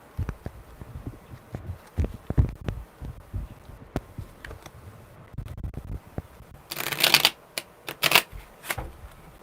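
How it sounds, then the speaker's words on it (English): A tarot deck shuffled close by in uneven rounds of soft slides and taps, then two sharp, bright riffle bursts near the end. "Okay, one more shuffle, because those were really weird."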